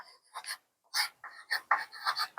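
Pen or marker strokes writing Hindi text on a board or paper, close and distinct, in short scratchy bursts separated by brief pauses.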